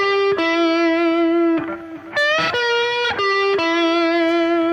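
Gritty, distorted electric guitar playing a classic rock lick, sustained notes with audible upward string bends on the second string, loud and close with effects-laden tone and no talking.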